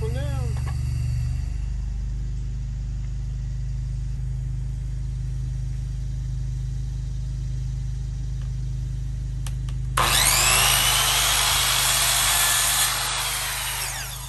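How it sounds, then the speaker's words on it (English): A steady low hum fills the room for about ten seconds, then a power saw bursts in loudly and cuts a straight line through chair rail trim for a few seconds before winding down. "I'm gonna adjust my saw for a straight cut"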